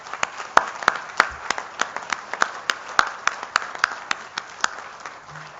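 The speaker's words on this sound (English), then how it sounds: "I would ask for a round of applause for our incoming board" Sparse, distinct claps ring out in a meeting hall as an association's incoming board is recognized at its annual general meeting, a thin, fairly steady patter of individual hand claps.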